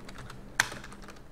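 A computer keyboard typed on during work in an Excel spreadsheet, a few soft key taps with one sharper, louder keystroke near the middle, close and quiet.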